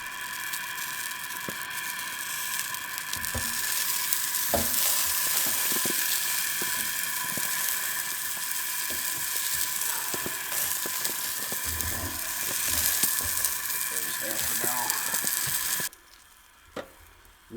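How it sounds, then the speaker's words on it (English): Food fries on a propane camp stove outdoors, a steady bright sizzle and burner hiss with scattered clicks and stirring taps, cutting off abruptly near the end. "Now we're cooking with propane."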